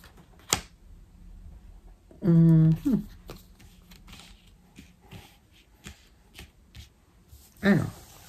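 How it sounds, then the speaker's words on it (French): Tarot cards being shuffled for a nine-card spread from a 77-card deck: sparse soft flicks and taps, then a loud riffle burst near the start of the middle and another near the end, close and mostly alone. "on fait un tirage en 9 cartes"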